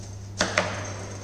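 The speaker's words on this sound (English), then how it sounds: "How to chop onion?" A kitchen knife cuts through a whole onion on a board, giving two quick, crisp chops a moment apart over a low steady hum, with no talking.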